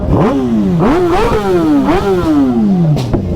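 Motorcycle engine revved loud and close, throttle blipped repeatedly so the pitch jumps up several times before sliding down into a long falling whine, with no talking over it.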